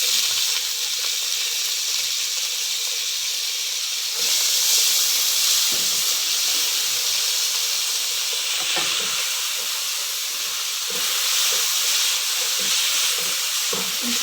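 Onions fry in about half a cup of hot oil for chicken aloo palak, giving a loud, continuous, even sizzle and hiss close by, with a few faint stirring knocks and no voices.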